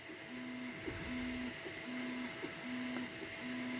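A laser engraver etches artwork into wood with a rhythmic pattern of short humming tones and soft clicks repeating roughly every half second, steady and close, with no talking.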